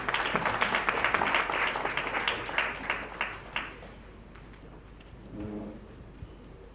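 A crowd applauds loudly for a few seconds as a guest is invited onto a dais, then the clapping thins into scattered claps and fades, leaving a faint low murmur.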